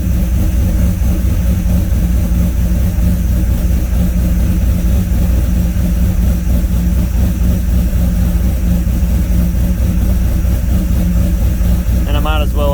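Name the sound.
supercharged LSA 5.3 engine running in C10 truck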